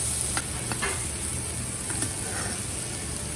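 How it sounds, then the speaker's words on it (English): Blanched crushed green peas sauté in a pan of oil with chopped ginger and green chili, giving a steady, even hiss with a few light scraping ticks from stirring. "Add blanch crushed green peas and saute for a minute."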